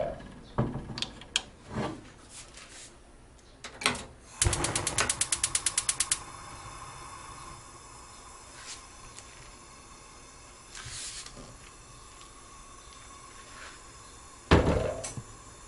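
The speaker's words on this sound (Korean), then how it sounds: "가스를 켜줍니다." A gas stove is lit in a home kitchen while making a Korean rolled omelette with green onion: a rapid train of igniter clicks follows scattered handling knocks, then a faint steady burner hiss and a final clatter.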